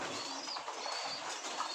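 Desi high-flying pigeons at a pigeon and bird farm coo softly and continuously, a low steady murmur over broad background hiss, with no talking.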